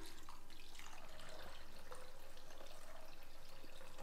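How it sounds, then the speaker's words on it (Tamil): Water poured into a pan of green peas being cooked into a masala, a soft running, trickling pour with light splashes, steady and fairly quiet, no voices. "இப்போது பட்டாணி வேகிற அளவுக்கு நம்ம தண்ணி ஊற்றிடலாம்."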